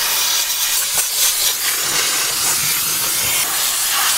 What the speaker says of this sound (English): That's more of a steamer.